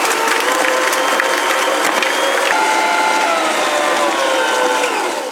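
Stand mixer creaming butter and sugars for chocolate chip cookie dough, a steady loud mechanical whir with rattling beater clatter running continuously and close throughout.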